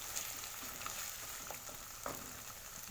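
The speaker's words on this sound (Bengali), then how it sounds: "মশলাটাকে একটু ভেজে নেব আমি" Spice paste fries in a pan for a Bengali dish of taro greens cooked with hilsa fish head, giving a steady soft sizzle with a few faint scrapes and taps, and no talking.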